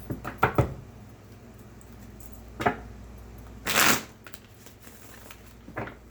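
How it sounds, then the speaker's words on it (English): Playing cards are riffled and tapped in a few separate bursts, with one longer shuffle in the middle and quiet pauses between. "Oh, this deck is getting too hard to shuffle."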